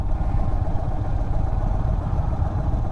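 Engine of an Indian Sport Chief RT touring motorcycle at low speed as the throttle is opened, a steady, rumbling low-pitched drone with a slight clatter, recorded close with no talking.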